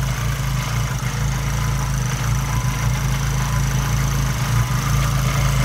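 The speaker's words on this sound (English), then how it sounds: "the direct injection is so loud, dude. All you hear is the injectors and the pump just pop, pop, pop, pop, pop, pop." Honda Civic Type R FK8 engine idling with loud direct-injection ticking, a steady low rumble heard up close with a constant rapid tapping from the injectors and pump.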